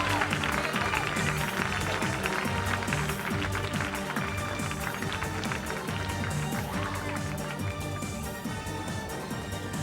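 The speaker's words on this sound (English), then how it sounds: "Big round of applause" Audience applause at the Miss Gibraltar 2008 beauty pageant, a dense and steady wash of clapping from a large crowd that holds loud throughout, fading slightly toward the end, with a voice faintly underneath.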